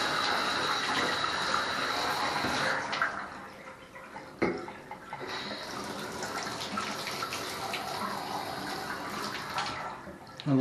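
Water runs from a bathtub spout during a tub valve test, a steady close hissing splash that dips briefly midway and then continues running.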